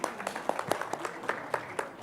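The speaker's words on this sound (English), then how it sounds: "A huge round of applause," Audience applause at a large AI summit event, a brief patter of scattered hand claps at moderate distance, fairly light and uneven, with a little speech in the background.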